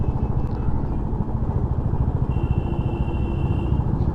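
About thirty-one motorcycles ride together in a long line on a road trip from Kolkata toward Darjeeling, their engines making a steady, close, droning rumble, with a faint high whine drifting in and out and no speech.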